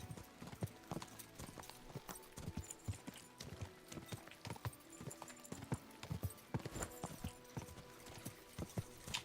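Horse hooves clip-clop at a steady trot in the medieval game Kingdom Come: Deliverance II, close and continuous for the whole stretch, with a brief snort or whinny-like sound in places.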